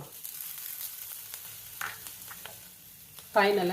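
Onion chutney ingredients, onion with chopped coriander, sizzle and crackle steadily in a hot pan, close by, with a short spoken word near the end.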